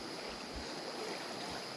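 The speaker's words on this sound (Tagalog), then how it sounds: "Dalawang ilog na nagsagpong dito." Two rivers, the Kadluan and the Subaan, meet at a confluence heading toward a lake, giving a continuous broad rush of flowing water, steady and moderately loud with no voices.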